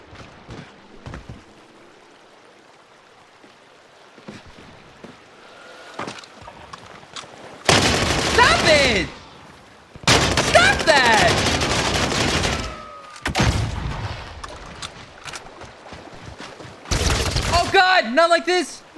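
Bursts of heavy gunfire in a video game bot lobby, several loud intense volleys separated by quieter gaps, with a person talking excitedly in between.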